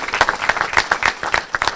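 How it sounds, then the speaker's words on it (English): An audience applauds students at a school district grant event, a short burst of brisk, fairly close clapping from a modest crowd with individual claps distinct. "So let's give them a round of applause"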